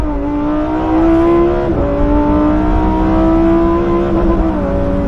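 Lamborghini Huracan STO V10 revving hard on a race track, loud and close, rising through the revs with a brief dip near two seconds for a gear change, then climbing again and hitting the limiter, with no voices.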